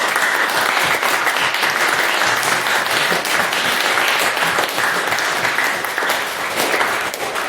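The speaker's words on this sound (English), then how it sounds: "give the Council as a whole another round of applause" An audience at an annual general meeting applauds the council, dense steady clapping from many hands filling the room at even loudness throughout with no talking over it.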